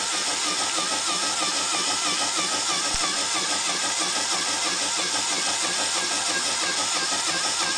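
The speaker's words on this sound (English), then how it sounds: "So let me start the compressor by touching the fingers." A small fischertechnik pneumatic compressor runs with a steady, buzzing mechanical drone, close and constant, with one brief click partway through and no talking.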